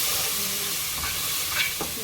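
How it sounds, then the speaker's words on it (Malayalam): A spoon stirs a chili, turmeric and coriander powder paste frying in a pan for a Kerala chicken curry, giving a steady close sizzle with soft scraping strokes and a brief clink near the end. "നന്നായിട്ട് ഇളക്കി കൊടുക്കുക."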